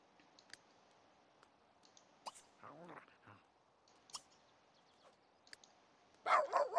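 A stray dog in The Sims 3 gives a few short barks among sparse game clicks and blips, with a louder burst of barking near the end, all fairly quiet.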